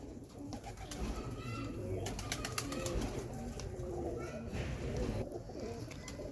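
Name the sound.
breeder pigeons cooing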